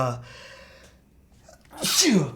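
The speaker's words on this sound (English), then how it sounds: "why am I fucking sneezing so much today?" A single sharp human sneeze bursts out near the end, close and loud, after a stretch of quiet speech.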